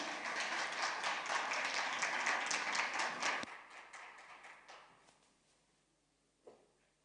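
At a business forum on African carbon markets, a conference audience applauds to welcome a speaker to the stage: several seconds of dense clapping that abruptly drops away and trails into a few scattered claps and quiet.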